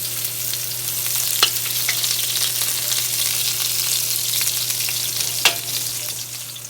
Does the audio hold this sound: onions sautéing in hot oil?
yes